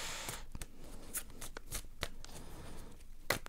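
Playing cards handled and shuffled for a tarot-style reading, a run of quick papery flicks and slides spread over a few seconds, close and fairly quiet, with no talk.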